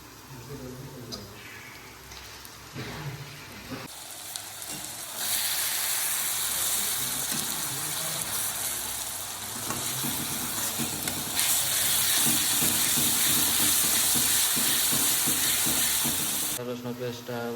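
Ginger garlic paste frying in a pan for egg potato curry, a steady bright sizzle that swells loud after a few seconds and holds, with stirring scrapes and a voice talking over it.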